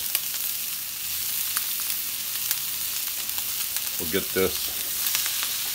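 Ribeye steaks frying in a pan with fresh thyme and butter, a steady close sizzle with brief louder spatters, while a voice speaks a few words over it.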